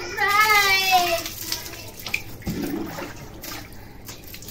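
Water splashes and pours during a child's bath, a steady wash of liquid with sharper splashes midway, close by, while an adult and someone speak over it.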